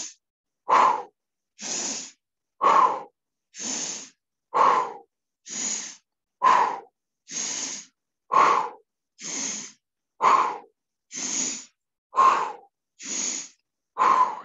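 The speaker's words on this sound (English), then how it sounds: "So Pilates swimming, paddling away with a pumping breath. So it's a big, deep diaphragmatic breathing." Deep diaphragmatic pumping breaths during a Pilates swimming mat exercise, about fifteen loud, close, evenly spaced breaths with a steady rhythm and no talk.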